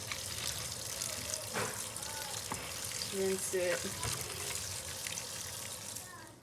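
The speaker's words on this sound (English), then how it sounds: "all you have to do is just rinse it." Raw sea moss is rinsed under running water, a steady close splashing stream with brief clinks and handling noises partway through, faint and with no talk.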